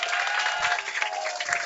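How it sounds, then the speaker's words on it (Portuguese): Applause rings out from the audience at the Battle Coliseum 2022 Grand Finals of the fighting game Pocket Bravery, a dense, steady wash of clapping with a faint tonal hum underneath. "Salva de palmas aí pra Grand Final, gente"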